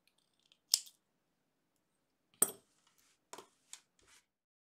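Scissors snip through crochet yarn on a ski mask balaclava with cat ears, several crisp, close cuts spaced irregularly across a few seconds of near silence.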